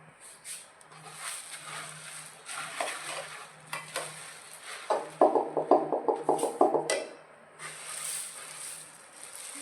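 Jaggery murabba mixture being stirred in a pan, a spoon scraping and clinking in quick repeated strokes that grow louder and more rhythmic midway, with soft bubbling and a low hum underneath.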